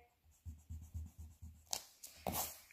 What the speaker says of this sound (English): I'm gonna erase here.